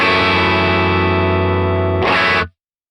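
An electric guitar chord played through a CorOS amp with the bass turned down rings out distorted and sustained. A short, brighter strum follows before the sound cuts off abruptly into silence.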